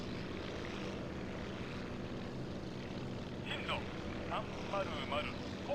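A propeller-driven warplane drones steadily in the IL-2 Sturmovik flight game, a constant engine hum throughout, with a voice briefly talking over it near the end.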